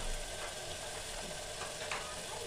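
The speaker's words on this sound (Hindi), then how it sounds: "प्याज फ्राई हो रहा है" Chopped onion sizzles and crackles steadily as it fries in a hot pan for a spiced chole masala, with occasional stirring scrapes and no voices.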